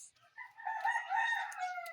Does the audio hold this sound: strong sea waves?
no